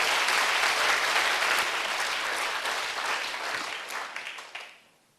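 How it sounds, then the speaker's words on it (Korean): Loud audience applause at a church sermon, dense steady clapping that thins and fades out toward the end. "박수로 세게, 박수로 세게."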